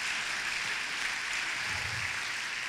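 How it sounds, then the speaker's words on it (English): Applause from an audience at a talk by a poet, writer and filmmaker, a steady wash of clapping that holds at an even level throughout with no voices over it. "You can applaud."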